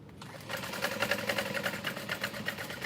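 A sewing machine stitches a messenger bag seam across a side panel, a steady rapid mechanical chatter running close and even after a brief quiet start.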